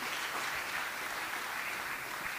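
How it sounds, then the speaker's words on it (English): Audience applause at an art-prize closing gala and awards ceremony, a dense, even wash of many hands clapping that holds steady throughout. "So, round of applause for Johnny."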